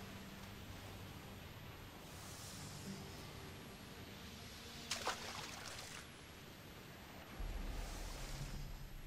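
Ocean waves in the video game Risen 3, a soft, continuous wash of surf heard from a distance, with one brief splashing burst midway and a deeper rumble swelling near the end.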